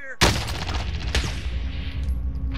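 A sharp, loud gunshot cracks out near the start, then a second blast about a second later over dense battle noise and rumble; a sniper round strikes the player in the Call of Duty Warzone Rebirth mode.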